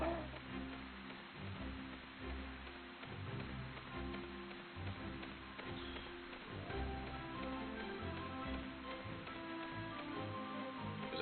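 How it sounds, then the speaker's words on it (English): Steady rain falls in the video game Final Fantasy Type-0 HD, a continuous soft patter and hiss mixed with low game ambience, moderately quiet, with no voices. "the rain makes it hard to see, and I think it's always raining"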